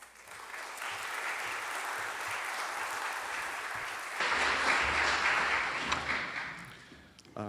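A crowd at a South Carolina Historical Society evening lecture bursts into sustained applause, steady and dense, swelling louder around the midpoint before fading near the end.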